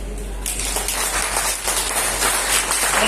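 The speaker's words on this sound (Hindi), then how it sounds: "दोनों हाथ ऊपर कर दें और इनके लिए तालियां बजाएं" An audience at a business seminar in India breaks into applause, dense clapping starting abruptly after half a second and continuing loud and steady to the end.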